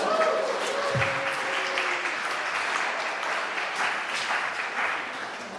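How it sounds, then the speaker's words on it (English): Audience applause at a scholarship foundation event, a broad sustained roar of clapping that stays even throughout, with a brief voice and a bump from the microphone near the start. "So, round of applause."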